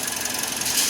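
A cleaned Toyota Vios engine idles steadily close by, a dense, even running drone with a faint rhythmic knock and no misfire or stumble, alone without talk.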